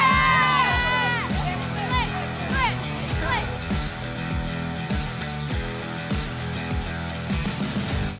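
A sold-out basketball arena packed for Kids Day, full of loud children shouting and cheering, with high-pitched screams rising and falling over a continuous crowd roar.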